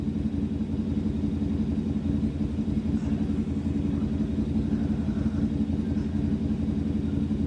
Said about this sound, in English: Sounds like a motorbike's out the front of my house.